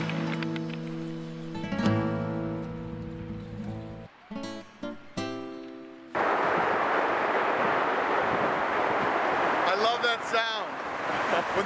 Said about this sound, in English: that's what it sounds like when the ocean retreats